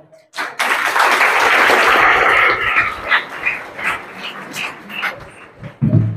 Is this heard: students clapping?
yes